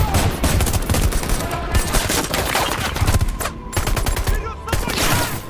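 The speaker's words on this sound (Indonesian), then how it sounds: "Akibat suara ledakan, aksi mereka diketahui tentara Dmitri dan terjadilah baku tembak di sana." Dense gunfight from the action film Hunter Killer, with rapid bursts of automatic fire and overlapping shots layered over a loud, continuous battle soundtrack throughout.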